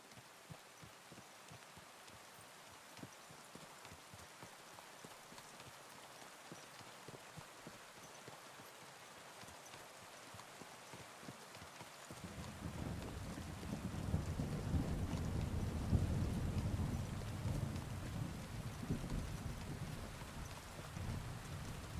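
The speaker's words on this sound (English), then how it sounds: "In the rain." Video game rain falls as a steady patter, then about halfway through a deep rolling rumble of thunder swells and lingers under the continuing rain, with no talking.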